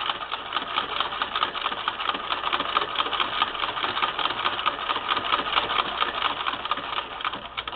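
A 1959 Singer Spartan sewing machine stitches through layers of quilting cotton and flannel, giving a steady, rapid mechanical whirr with a fine even chatter that runs unbroken throughout.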